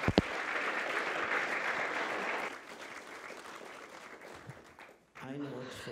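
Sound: audience applause

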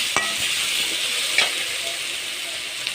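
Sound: capsicum sautéing and being stirred in a pan

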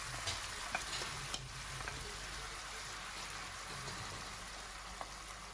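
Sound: pork frying with tomato sauce being stirred

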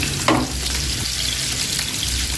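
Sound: onions frying in two woks

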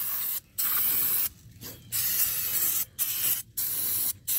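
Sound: spraying cleaner onto brake caliper

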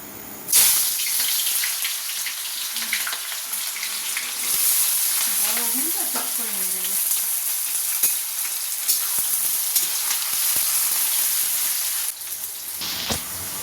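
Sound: frying onions for birista in hot oil in a wok

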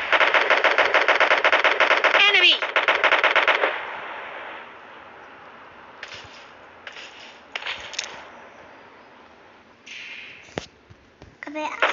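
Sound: gunfire in PUBG Mobile video game

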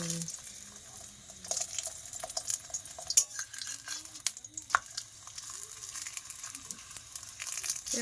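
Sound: frying food in a pan

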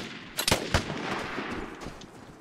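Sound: gunfire in Vigor video game

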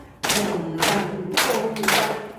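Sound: group slapping knees twice and clapping hands twice

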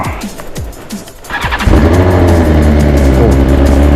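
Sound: car being driven out after a long time parked

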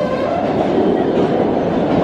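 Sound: MBTA subway train running on rails

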